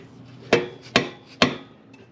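A rubber dead blow hammer knocks on a slip-on exhaust part of a Harley-Davidson Softail Low Rider S: three sharp, close thuds in an even rhythm, with nothing else heard in between.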